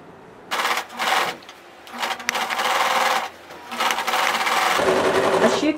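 A sewing machine stitches dart lines on a skirt in several rapid, whirring bursts separated by short pauses, close and loud, with a steadier final run.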